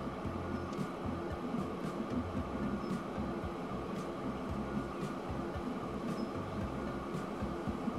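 A train running in the Transport Fever 2 video game: a quiet, steady rumbling clatter with a rhythmic low thump repeating throughout, faint sharp ticks on top, continuous and without talk.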